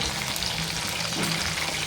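Chicken chili fries in a hot kadhai with oil, a loud, continuous close-up sizzle with faint stirring movement underneath.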